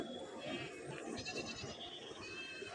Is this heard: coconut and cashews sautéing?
no